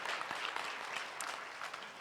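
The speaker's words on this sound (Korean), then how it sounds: "감사의 박수를 좀 드리겠습니다." A church congregation at a Sunday worship service gives a short burst of applause, many hands clapping at once in a dense, even patter that holds steady for a couple of seconds.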